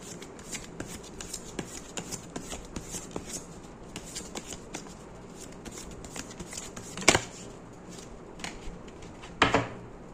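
Tarot cards being shuffled and drawn, a continuous close riffle of crisp card flicks with two louder snapping slaps near the end, quiet background, no talk.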